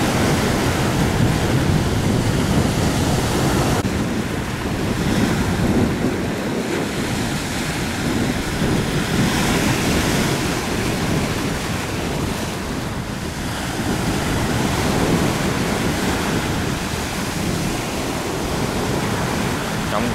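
Big sea waves and strong wind around an iron boat just out at sea make a loud, continuous roar of surf and gusting air that swells and eases.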